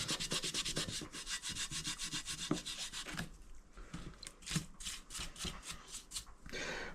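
A Scotch-Brite pad scrubs long-bonded muck off a Suzuki RM dirt bike part in fast, rhythmic strokes, a close, harsh, repeated rasping that slows into separate bursts partway through.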